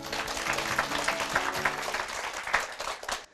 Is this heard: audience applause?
yes